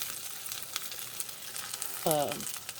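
Rice sauteing in a pan sizzles with a soft, steady crackle, then a brief louder scraping stir near the end, heard close up.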